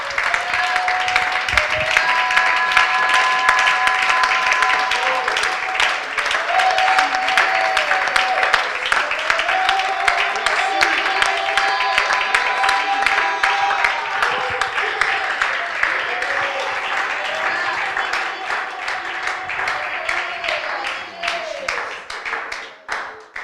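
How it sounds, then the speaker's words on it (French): A church congregation claps and cheers loudly and steadily for over twenty seconds, a dense sustained ovation with voices rising through the crowd noise. "Est-ce qu'on peut acclamer le Seigneur?"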